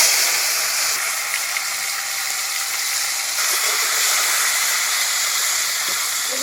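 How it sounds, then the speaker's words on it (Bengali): Steady, loud sizzling hiss of pond-caught crabs, coated in salt and turmeric, frying in hot oil in a wok, continuous and unbroken throughout with no voices. "আমি ক্যাকড়াগুলো ভেজে নিচ্ছি"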